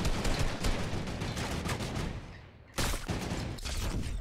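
Gunfire from the video game Fortnite, a dense volley of rapid shots crackling close and loud, breaking off briefly before another burst resumes.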